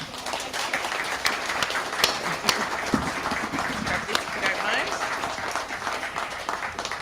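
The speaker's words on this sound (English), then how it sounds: "A round of applause for" Audience applause fills a pub at a political book launch, a steady dense patter of many hands with a few sharper claps, sustained at moderate level for several seconds.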